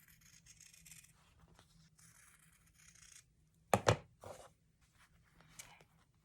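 Scissors cutting through fused wing fabric for a small patchwork angel ornament: a quiet stretch of faint rustling, then a couple of sharp, close snips in quick succession, followed by softer handling noises.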